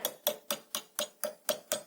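A hammer strikes bent wire on a metal carpenter's square in a steady series of eight sharp metallic taps, evenly spaced about a quarter second apart, close and clear with no talking.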